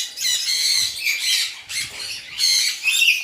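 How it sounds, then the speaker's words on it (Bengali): Pet lovebirds in a home bird house squawk and scuffle in a fight, with harsh, shrill bursts that come in several close, loud bouts and short pauses between them. "এগুলো আমার সেম লাভবার প্রচণ্ড ঝগড়া করে"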